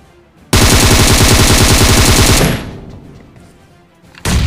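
Rapid automatic gunfire from pre-firing in the video game BGMI rattles out in a long, loud burst, fades into a ringing tail, then a second burst starts abruptly.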